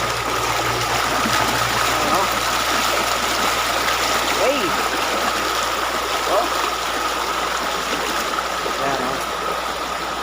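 River water rushes and burbles steadily over rocks, a continuous broadband stream sound with faint voices now and then beneath it.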